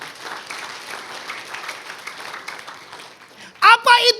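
Congregation at a church worship service breaking into applause after a preacher's speech, a soft murmur of talk giving way to a loud burst of clapping at the end.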